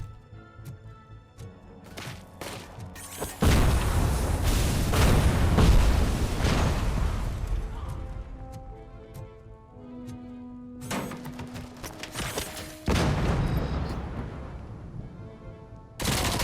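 Bursts of gunfire from the video game Robocop: Rogue City come in loud stretches, sustained rattling volleys broken by quieter pauses with faint game tones.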